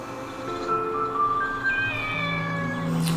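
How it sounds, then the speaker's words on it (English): Kitten meowing in the Shenmue video game: a run of thin, high, drawn-out mewing cries, several in succession, clear and close with little else behind them. "Poor little kitten."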